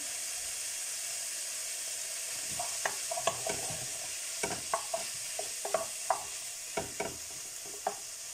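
Onions and lardons fry gently over low heat in a pan. A steady soft sizzle runs throughout, broken by a series of close utensil scrapes and taps as they are stirred.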